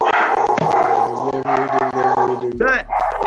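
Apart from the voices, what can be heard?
dogs barking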